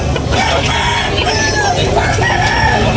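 Chickens at a crowded poultry market in Tabunok, Cebu, with roosters crowing and hens clucking, a dense, loud, continuous din of many birds close by with no pauses.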